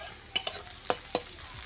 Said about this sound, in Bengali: দেখো বন্ধুরা আমার পেঁয়াজটা এখানে ভাজা হয়ে গেছে